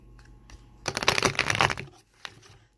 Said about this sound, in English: That was an epic fail as far as shuffling went.